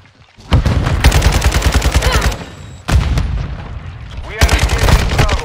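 Three loud, close bursts of rapid automatic gunfire ring out in a shooter video game, with echoing impacts and short gaps between volleys.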